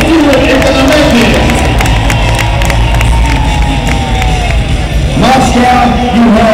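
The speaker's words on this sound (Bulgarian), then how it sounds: "Аплодисменты Raging Bull и его водителю Стива Экономики." A large crowd at a Monster X monster truck show in Moscow, loud sustained cheering and whoops filling the arena, with an announcer's voice over it and a surge of shouting near the end.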